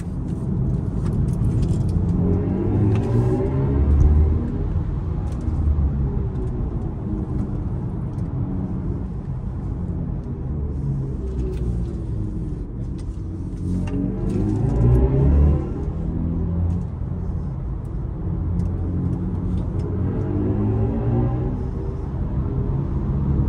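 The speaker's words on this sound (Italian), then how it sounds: "BMW, lo ricordo, ha scomodato un personaggio del calibro di Hans Zimmer per la progettazione del sound di questa BMW" A BMW i4 M50 electric car on the move, its synthesized drive sound designed by Hans Zimmer swelling and falling in long whooshing sweeps over a steady rumbling road noise, with no talking.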